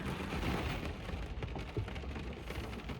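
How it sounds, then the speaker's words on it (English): Steady rain falling outdoors, a dense, even hiss with a low rumble underneath and a few soft spatters, moderately loud and continuous with no talking. "It's raining, so my hair is a little off from walking in the rain"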